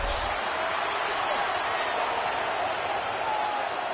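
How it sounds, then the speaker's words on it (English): Steady crowd roar fills a video game NFL football stadium between the Colts and Rams, a continuous broad wash of cheering with no breaks, held at an even level throughout. "The crowd making their presence felt."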